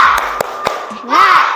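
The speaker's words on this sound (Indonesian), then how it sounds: "Tepuk semangat." Classroom of fifth-grade pupils doing a rhythmic spirit clap, a few sharp group claps in a patterned beat, close and loud, with children's voices and a teacher's speech mixed in.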